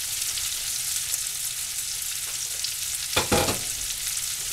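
Food frying in a pan during a simple home dinner cook, a steady close sizzle throughout with a brief louder crackle near the end, no talking.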